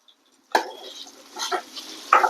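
Onion, tomato and curry leaves sauté in a pan for a sardine fish curry, with a few scraping stirs and clatters over a soft sizzle, near and moderately loud.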